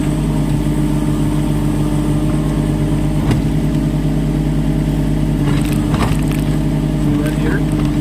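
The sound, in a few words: Kubota mini excavator rotating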